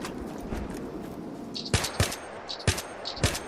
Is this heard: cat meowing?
no